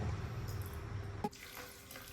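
Soft continuous rush of 2.5 cups of water pouring into a blender, with a faint clink partway through, quiet and close.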